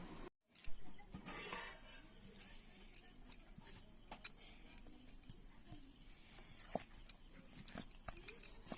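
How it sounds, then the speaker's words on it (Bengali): Flour dough for egg momos being cut into balls, heard as light, scattered clicks and taps of a utensil on a board or plate, fairly faint and alone, with a soft knock near the start. "এবার আমি ময়দার লেচিগুলো কেটে নেব"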